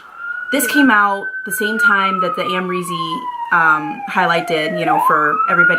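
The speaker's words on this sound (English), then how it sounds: "I'm sorry about the sirens." Emergency sirens wail from a busy street outside, a long swooping tone heard throughout at moderate loudness beneath someone talking close by.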